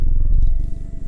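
A cat purrs steadily after being slapped in a horror video game, a close, low rumbling purr heard alone for about a second.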